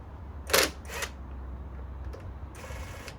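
A 10mm socket wrench works loose the heating element of a washing machine, giving two short, close bursts of metallic ratcheting clicks, followed by quieter scraping and handling noise.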